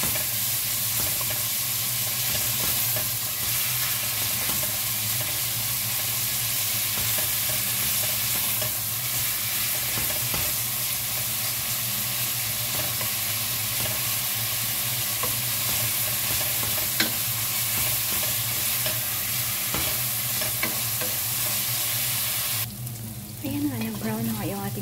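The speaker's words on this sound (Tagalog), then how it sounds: "Igisa lang natin hanggang maging brown." Meat browning in a frying pan for carbonara, with a steady loud sizzle and scraping stirs running throughout, and a brief clatter near the end.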